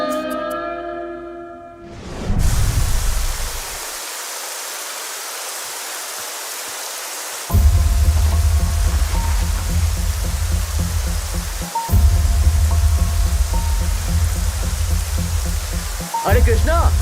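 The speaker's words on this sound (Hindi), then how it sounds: "बारिश बहुत तेज हो रही है, संभल कर जाना।" Heavy rain falls as a steady broadband hiss, with a loud low rumble joining midway, and a short tonal sound rings out at the very start.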